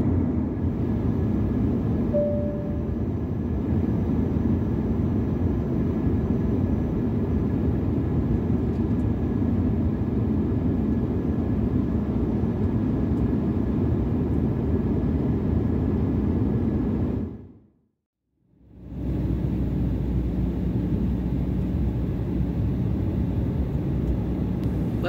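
Steady low cabin roar inside an Embraer E175 in flight on a Delta Connection trip, a constant broadband drone with a faint hum, briefly dropping to near silence before resuming.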